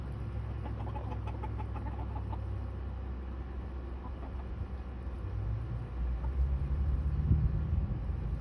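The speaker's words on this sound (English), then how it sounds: "I have 3 hens, and they're all trying to take a dust bath together or dirt bath together." Three backyard hens cluck softly while dust bathing together, with a few short clucks early on over a low background rumble.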